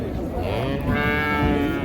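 A cow moos loudly at a busy cattle market in Kashkadarya, a long drawn-out low call that rises and then holds, heard up close over a steady background of crowd noise.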